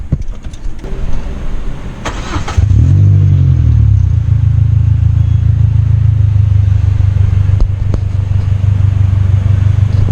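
A Peugeot 206 2L S16 petrol engine cranks and fires at about 2.5 seconds, briefly revs, then settles into a loud, steady idle that continues alone to the end.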